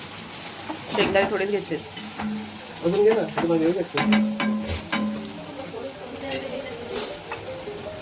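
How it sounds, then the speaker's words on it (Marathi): Onion roasting in a pan over a gas stove, a steady sizzle with stirring scrapes and clinks while people talk close by. "थोडा गॅस मोठा करा, कांदा भाजू दे."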